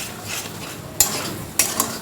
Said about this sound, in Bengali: এবার বারে বারে নাড়তে হবে, আঁচ কমিয়ে কমিয়ে